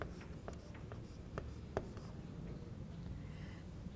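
Pen or marker strokes on a classroom board while ray diagrams are drawn for a geometry lesson on lines and angles, producing a few short, faint scratching squeaks over quiet room tone.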